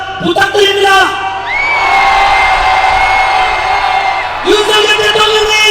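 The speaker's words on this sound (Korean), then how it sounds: "윤석열 대통령께 한 번 더 응원하는 함성 한번 부탁드립니다" A rally crowd cheers for President Yoon Suk-yeol with a loud, sustained roar of shouts and whoops that swells and holds for several seconds.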